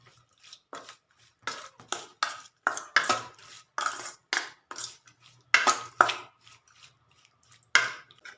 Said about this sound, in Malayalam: നമുക്കിതിലോട്ട് വെളിച്ചെണ്ണ കുറച്ച് ഒഴിച്ച് എല്ലാം കൂടി ഒന്ന് മിക്സ് ചെയ്ത് ഇതിലോട്ടൊന്ന് പിടിക്കാനായിട്ട് വെക്കാം